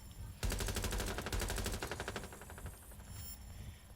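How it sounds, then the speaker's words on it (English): A shotgun fires in the video game Watch Dogs: Legion, a sudden loud burst followed by rapid repeated blasts that gradually fade. "Show off a shotgun a little bit."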